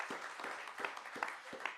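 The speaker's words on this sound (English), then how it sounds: "So a round of applause, please, for our amazing elected officials who are here." Faint, brief applause for elected officials at a mayor's awards celebration, sounding as a scattered patter of clapping hands with several sharper claps standing out.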